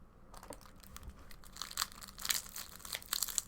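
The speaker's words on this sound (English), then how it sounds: "Sorry about the crinkling. I had to get a snack too." Close, crisp crinkling and crunching of a plastic snack wrapper being handled, irregular bursts growing busier and louder toward the end, with no talking.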